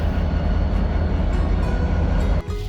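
A train on the FCAB Railway in the desert rumbles steadily along the rails, a loud, continuous low roar with rhythmic clatter from the wheels, close by.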